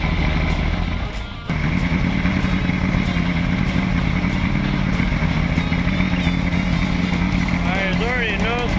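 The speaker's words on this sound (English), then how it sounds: "Now it's going to run rough with the carb cleaner because the carb cleaner is not quite as explosive as the fuel." An outboard motor runs rough on carburetor cleaner instead of fuel, a loud, steady, close engine clatter that continues throughout with a brief dip near the start.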